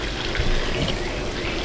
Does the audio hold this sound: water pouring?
yes